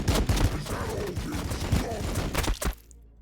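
Rapid bursts of blessed-ammo gunfire from Adepta Sororitas units in Warhammer Battlesector crackle loudly in a dense fusillade of overlapping shots, then cut off abruptly into near silence at the end.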